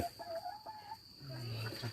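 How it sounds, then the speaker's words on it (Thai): White Leghorn chicken on a farm clucks softly in short, faint bursts against low background noise. "อันนี้ไก่อะไรสีขาว ไวเล็กฮอนครับ"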